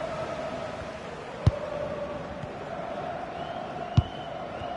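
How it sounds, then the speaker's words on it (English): A stadium crowd roars steadily through a robot ball game, a broad, continuous wash of distant cheering and hubbub, punctuated by two sharp knocks. "The crowd certainly think so. Just listen to them."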